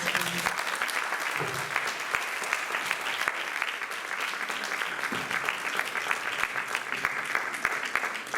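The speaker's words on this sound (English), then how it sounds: "please could we have another round of applause?" An audience at a birthday celebration in Leeds gives a sustained round of applause, dense and steady clapping from a crowd filling the room for several seconds without a break.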